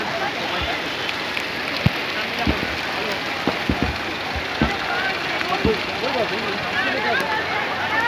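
Heavy rain pours down during an evening candle-lighting tribute ceremony for Kargil Vijay Diwas in Jagdishpur, Bihar, a dense steady hiss with scattered louder drops, while voices murmur faintly underneath.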